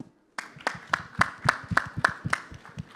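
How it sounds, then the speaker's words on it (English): At an AIBC conference, about ten crisp, evenly spaced claps ring out after a brief silence, fairly close and distinct rather than a dense crowd roar, with a slight echo from the hall. "So really a big round of applause to you and the AIBC team"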